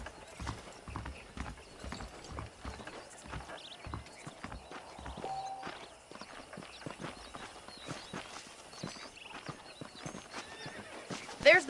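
Saddled horses in the Red Dead Redemption video game, hooves clip-clopping steadily at a walk with occasional neighs and whinnies, close and clear over a quiet outdoor ambience.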